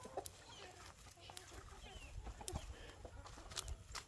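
Hens cluck softly in a farmyard coop amid low background noise, with occasional sharper clucks and someone talking nearby.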